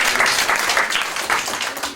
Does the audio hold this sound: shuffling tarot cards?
no